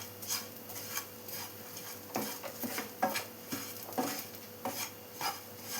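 A spoon scrapes and stirs turmeric and chili powder heating over a low flame in a pan, for a kadala curry with roasted coconut. Soft, irregular scraping strokes and metallic taps recur close up against a faint background hum.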